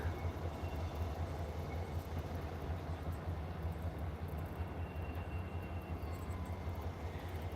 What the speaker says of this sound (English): Right now they're switching and building the trains.